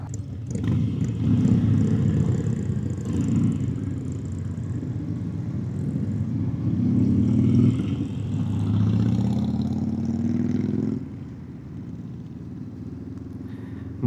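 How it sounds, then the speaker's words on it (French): A motorcycle on a straight rural road toward Saint-Bruno in Saguenay, Quebec, accelerates hard. The engine drone rises steadily in pitch through the gears, loud and close with wind noise, then eases off near the end. "Bon, la moto a quand même de la reprise."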